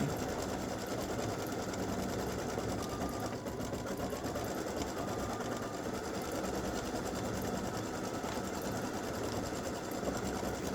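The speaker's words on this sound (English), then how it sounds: "So this is going to stitch the fill stitch of the handles." An embroidery machine runs a fill stitch on scissor handles, its fast, even mechanical chatter continuing steadily and quietly throughout with no pauses.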